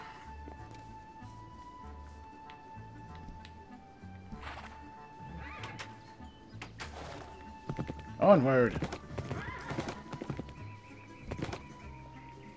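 A horse in Minecraft clip-clops with soft hoof steps, then lets out a loud, close whinny midway, followed by more hooves and game sounds, while a player talks throughout.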